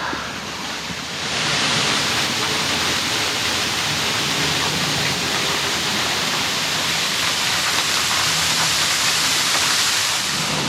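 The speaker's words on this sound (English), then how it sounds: "the sound of water is intensifying. Maybe this is the fall." A steady, dense roar of a waterfall at Girrakool National Park, NSW, Australia, rising in the first second and then holding loud and constant, with no talk.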